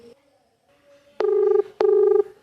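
Ringback tone of an outgoing phone call, two loud evenly spaced electronic beeps, close and clear after a brief faint sound.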